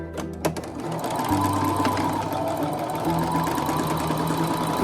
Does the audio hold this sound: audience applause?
no